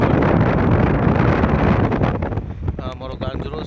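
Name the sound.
wind blowing on a fishing boat at sea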